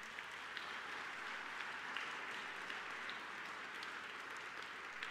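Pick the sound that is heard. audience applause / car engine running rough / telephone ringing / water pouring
audience applause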